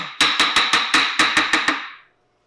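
A barrel for a Southern Mountain Rifle kit is tapped down into its stock with about ten sharp, evenly spaced knocks. The knocks are close and crisp, and silence follows them.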